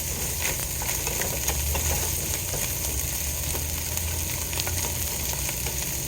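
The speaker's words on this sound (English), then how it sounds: "so our sausage is cooking really quickly" Smoked sausage medallions sizzle steadily in a hot pan, a loud continuous frying crackle with small pops throughout, with no voices.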